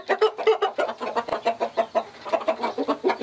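Several roosters clucking and crowing close by on a countryside farm, a dense run of repeated bursts through the whole stretch with no talk.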